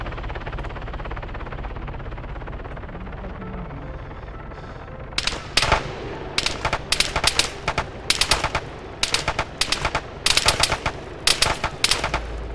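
Bursts of automatic gunfire in the video game ARMA 3, set in a city, crackling in short, irregular volleys over a steady low background rumble, fairly close and sharp, with no speech.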